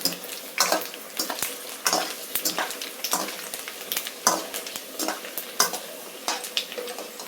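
Puris for masala puri fry in hot oil in a home kitchen, a soft bubbling sizzle broken by frequent sharp clinks and scrapes of a utensil against the pan, fairly close with no talking.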